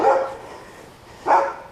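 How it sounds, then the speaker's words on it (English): Two short, bright barks from young puppies, heard close, separated by a pause of about a second, with no talking over them. "Oh goodness, baby dogs."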